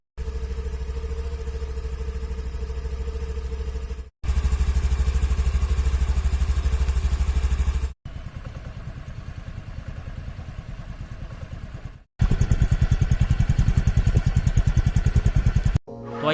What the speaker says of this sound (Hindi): उससे पहले मैं आपको इसके इंजन एंड एग्जॉस्ट साउंड